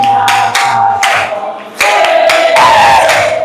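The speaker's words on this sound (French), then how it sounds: "On acclame, on acclame, on acclame, on acclame, on acclame," A congregation cheering and acclaiming during the closing of a church seminar: loud crowd shouts in repeated surging bursts over a sustained sung tone, filling the room.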